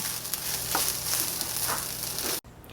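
Garlic fried rice stirred and sizzling in a hot pan with fried garlic on top, a steady close frying hiss with faint scraping stirs, cutting off abruptly near the end.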